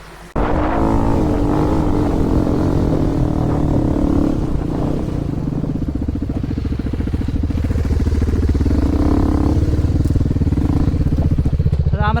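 Hero XPulse 210 motorcycle ridden hard off road, its engine droning loudly and steadily throughout with revving surges and rough mechanical clatter from the terrain.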